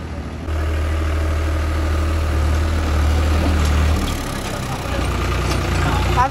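A tractor idles close by with a steady low engine drone, parked in a Punjab field, a voice talking over it before the idle shifts and roughens partway through.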